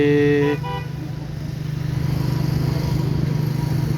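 A car horn honks briefly amid rush-hour school-time traffic at a roundabout in Bahçeşehir, followed by a steady idling engine drone and low traffic rumble.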